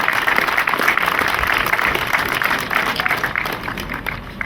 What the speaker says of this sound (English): give Brendan Minnock and Colm Cummins a round of applause for what they've done today